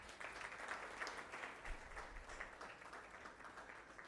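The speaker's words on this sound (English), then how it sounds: "Let us give them a round of applause." A crowd at a university innovation festival awards ceremony applauds student pitches, a moderately distant, steady patter of many hands clapping that carries on throughout.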